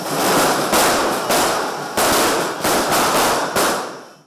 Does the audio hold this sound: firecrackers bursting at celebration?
yes